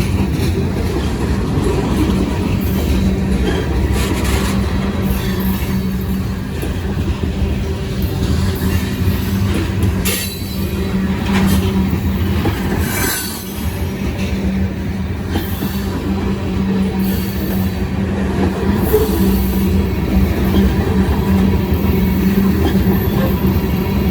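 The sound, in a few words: freight train of covered hoppers passing, wheels squealing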